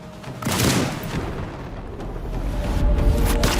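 Gunfire in a sniper action film, heard as loud, heavy booming shots, one sharp blast near the start followed by rumbling reverberation and further deep thuds toward the end.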